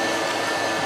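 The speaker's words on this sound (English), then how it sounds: "Just go ahead and turn the vacuum all the way up." A DTF 1000 shirt printer's vacuum running at its highest setting, a steady close-up broadband whoosh that holds level and alone through the short moment.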